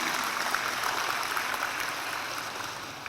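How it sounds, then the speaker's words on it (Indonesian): Audience applause at a nursing profession oath ceremony, a steady wash of many hands clapping through the whole stretch at moderate level, with no talk over it. "Tepuk tangan dulu untuk kita semua."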